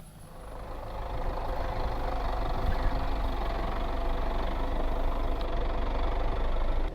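Toyota Fortuner 4x4 on the Kippersol Garden Route trail with a steady, fairly loud low engine rumble that holds even throughout with no talk.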